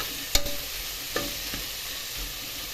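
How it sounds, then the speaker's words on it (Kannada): Tomato frying in a pan for a ridge gourd (gorikayi) pulao, with a steady soft sizzle, a few sharp stirring knocks near the start and middle, and no voices. "ಸ್ವಲ್ಪತ್ತು ಫ್ರೈ ಆಗಿರ್ತದೆ ಟೊಮೊಟೊ ಒಂದು ನಿಮಿಷ ಎರಡು ನಿಮಿಷ ಸಾಕು"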